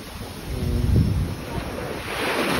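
Rough surf at Khao Lak Beach, Thailand, rolling in as one broad wash that swells and fades over steady wind rumble on the microphone.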